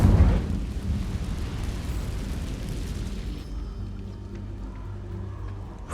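A fire spell cast in the Hogwarts Legacy video game erupts with a loud whooshing blast at the start, then settles into a steady, roaring crackle of flames that gradually thins out.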